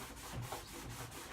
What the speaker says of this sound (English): Just wipe it down.